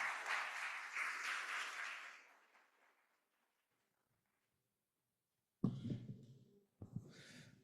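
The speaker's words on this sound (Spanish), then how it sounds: "Por favor, un fuerte aplauso para Maximiliano." Audience applause at a recycling survey presentation event, a couple of seconds of faint, moderately dense clapping that fades into silence, followed later by some brief thumps and handling noises.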